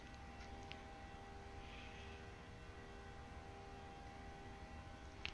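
PMDG Boeing 737 jet engines in Microsoft Flight Simulator, a steady, even whine and roar droning without a break, quiet and constant, with no talking.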